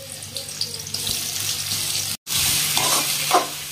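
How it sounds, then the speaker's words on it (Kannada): Sliced onions frying in oil on high flame for a restaurant-style chicken gravy, a continuous bright sizzle broken by a brief cut, with some stirring toward the end. "ಉಳ್ಳಾಗಡ್ಡಿ ಹಾಕಿ ನೋಡ್ರಿ ಇದನ್ನು ಒಂದು ಸ್ವಲ್ಪ ಕೆಂಪಾಗೋ ಥರ ಚಲೋತ್ನಾಗಿ ಹೈ ಫ್ಲೇಮ್ ಒಳಗೆ ಫ್ರೈ ಮಾಡ್ಕೊಳ್ಳೋಣ್ರಿ ಎಣ್ಣೆ ಒಳಗೆ."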